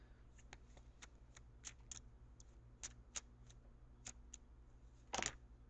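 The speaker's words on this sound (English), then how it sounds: "So I'm going to shuffle for your outcome card" Tarot cards riffle and snap in a series of quick, crisp shuffles, ending in a louder flurry, close and quiet with no talking.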